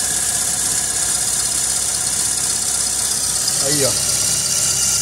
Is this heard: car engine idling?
yes